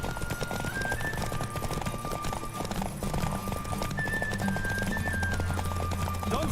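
Horse hooves pound at a gallop during a race in The Witcher 3, a fast, continuous clip-clop over steady ambient noise and low rumble, with thin tonal music lines above.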